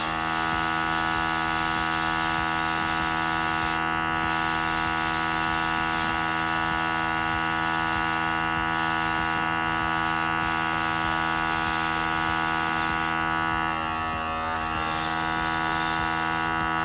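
An airbrush spraying paint onto a model of tiger-eye Legio Fureans, a steady hiss and buzz of the compressor and spray running continuously and fairly loud with no pauses or talk.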